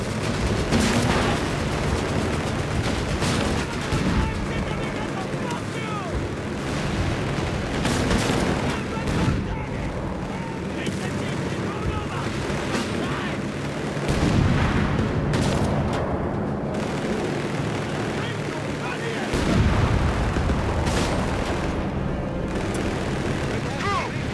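A North Africa battle in the video game Company of Heroes 3 carries repeated bursts of gunfire, machine-gun rattle and heavy artillery booms, with voices shouting orders between the blasts.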